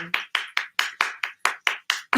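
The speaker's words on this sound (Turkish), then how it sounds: "Alkışları duyuyorum." A live audience claps during a livestreamed Macbeth kitchen performance, about ten sharp, evenly spaced bursts of hand claps, close and loud with no talk.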